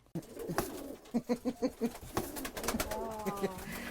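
A pigeon in New York coos in a quick series of soft, rounded notes, then a longer warbling coo, close and fairly quiet, with faint background noise.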